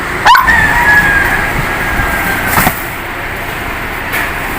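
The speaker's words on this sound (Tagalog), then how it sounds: "Ay, aso, may breed, oh. Parang nawawala." A dog barks and yips near a road, with one sharp bark early and a fainter call later over steady traffic and engine background.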